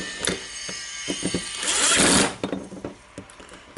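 Blade slider on a Makita BJV180 cordless jigsaw being slid back and forth by hand during a restoration, giving close mechanical clicks and scraping with a louder sustained rasp midway.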